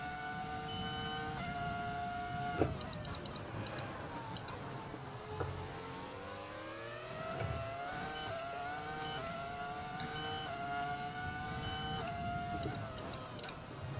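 Ferrari F2004 Formula 1 car in the F1 2020 video game, its high-pitched engine whining steadily with rising and falling revs through gear changes, loud and continuous with no talk.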